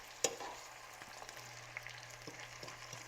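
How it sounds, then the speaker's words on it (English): Spinach and onions sauté in a pan with a low, steady sizzle, broken by a sharp clatter near the start and a few soft stirring taps; quiet, with no talking. "You just saute your veggies"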